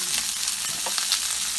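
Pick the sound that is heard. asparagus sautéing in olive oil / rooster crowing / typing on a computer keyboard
asparagus sautéing in olive oil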